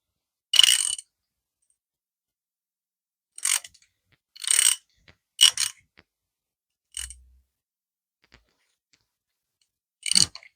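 A ratchet wrench loosens a bolt on an Austin Mini bottom-end engine in short, sharp bursts of clicking separated by silence, close and crisp, with no talking.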